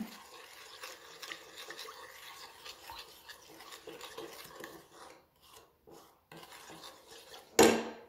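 A spoon rasps and scrapes around a bowl as lemon cake icing is stirred, a soft continuous scratching that thins into separate strokes near the end, closing on one sharp clink.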